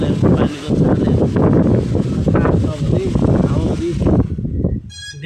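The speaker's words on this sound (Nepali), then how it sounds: "हावाहुरी त्यस्तै चलेको छ" Strong gusty wind batters the seashore in dangerous stormy weather, roaring and buffeting the microphone in loud surges while someone talks over it.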